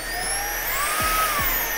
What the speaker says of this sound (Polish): jak poradzi sobie z tym nasz odkurzacz